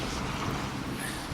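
Wind and surf on the wild, windy Dieppe seafront, a steady broadband roar of gusts buffeting the microphone over breaking waves, continuous and fairly loud with no voices.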